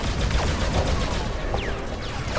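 Gunfire in the Star Wars Battlefront II video game, a dense, continuous barrage of blaster shots that fills the whole stretch at steady loudness, with faint laser whooshes over it.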